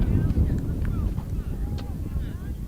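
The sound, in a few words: gusting wind against the microphone at a baseball field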